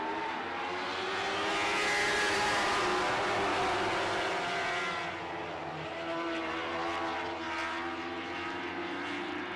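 Lightning sprint race cars start a heat, their engines a broad, loud roar that swells, then drops back slightly partway through.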